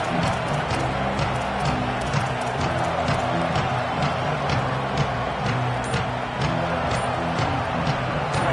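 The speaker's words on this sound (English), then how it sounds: "Now this home crowd making life difficult." A home stadium crowd roars at a college football video game, a dense, unbroken wall of cheering that stays loud and even throughout.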